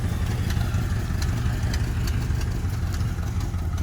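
A 1968 El Camino engine runs at a steady idle, close by, with a continuous low rumble and an even, rapid exhaust pulse that never misses, heard alone without talking.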